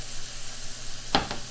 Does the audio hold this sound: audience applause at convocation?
no